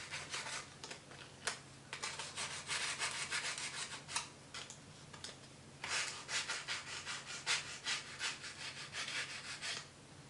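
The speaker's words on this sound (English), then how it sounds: "You want like a medium strength nail file. And we are just going to smooth the edges." Medium-grit nail file smoothing the edges of a handmade magnetic bookmark, a close, dry rasping rub in repeated back-and-forth strokes, with bursts of quick filing separated by short pauses.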